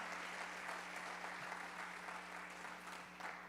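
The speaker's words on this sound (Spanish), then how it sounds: "Denle un aplauso al Señor." A church congregation clapping for the Lord during a service, dense sustained applause from many hands filling the room.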